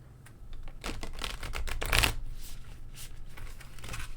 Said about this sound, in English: Give that a good shuffle.